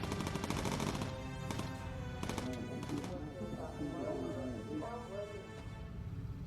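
Gun fire from a bomber's turret in Bomber Crew, a burst of rapid sharp shots early on that trails off into softer game sounds and chatter.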